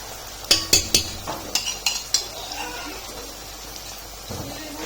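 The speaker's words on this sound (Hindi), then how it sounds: "सॉस ऐड करके आपने इसको अच्छे से मिक्स कर लेना है" Stir-fried vegetables with sauce for chicken chow mein being stirred in a pan, metal utensils clinking sharply a handful of times in quick irregular strikes up close, then softer scraping.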